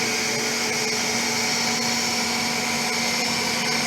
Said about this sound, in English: Okay, so I am going to on the motor.